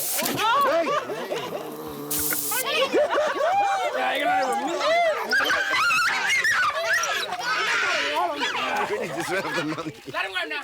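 A crowd of village dogs yelps, whines and barks excitedly around a visiting vet doing worming and jabs, loud and close, with people talking over the din.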